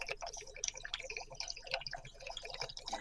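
Water poured from one container into another makes a continuous splashing, trickling stream with a close, bright liquid sound throughout, and no voices.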